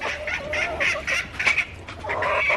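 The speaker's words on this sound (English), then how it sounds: "Sound like a jungle chicken." Chickens clucking and squawking loudly and close by, a busy run of repeated calls and sharp cries with brief pauses, no talking over them.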